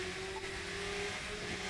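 A car engine in The Crew 2 racing game revs steadily and loudly throughout, a sustained droning hum with slight pitch shifts and faint road noise, no voices.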